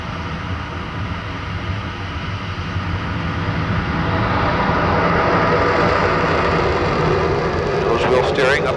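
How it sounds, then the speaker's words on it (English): Jet engine at full afterburner during a takeoff run, a loud broadband roar that builds and holds steady, with a brief whistling burst near the end. "Full afterburner."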